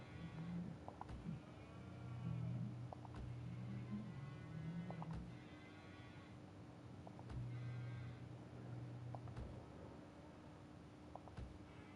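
Cattle mooing in a farming video game: several low, drawn-out moos, some overlapping, spread across a steady background hum, at moderate distance and fairly quiet.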